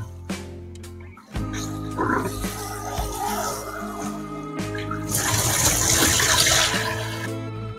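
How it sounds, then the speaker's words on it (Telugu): Mutton chop pieces being rinsed in a vessel of water, with sloshing and splashing that grows louder and fuller toward the end, close by, with faint background noise and no talking. "3-4 టైమ్స్ వాష్ చేసుకొని వాటర్ క్లియర్గా వచ్చే వరకు బాగా వాష్ చేసుకోవాలి"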